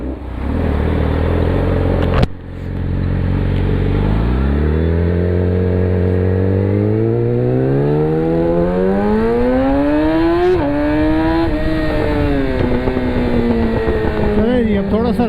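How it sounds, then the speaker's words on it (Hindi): A loud Yamaha R6 600cc motorcycle with a raw, unmuffled Austin Racing straight-pipe exhaust revs steadily upward, its roar rising in pitch and staying close and dominant throughout. "this has a very loud Austin racing straight pipe exhaust"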